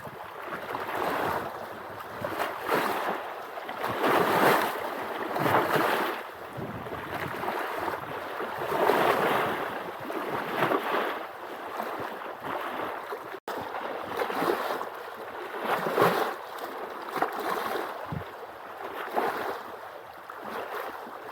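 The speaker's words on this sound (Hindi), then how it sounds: "बेहतर है कि हम इसी कलकल की आवाज़ को सुने" Water gurgles and murmurs steadily at a secluded ashram, a continuous flowing wash with gentle swells in level, close and unbroken, with no voices over it.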